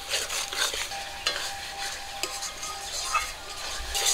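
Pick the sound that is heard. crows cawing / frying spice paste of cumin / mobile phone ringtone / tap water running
frying spice paste of cumin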